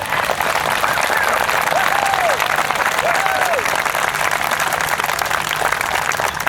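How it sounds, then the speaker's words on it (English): Dense, loud applause fills a crowded public meeting of about 500 people over a Skaha Park lawsuit in Penticton, steady throughout, with a few rising whistles and scattered voices over the clapping. "I'd like a big round of applause for Nelson and all his effort."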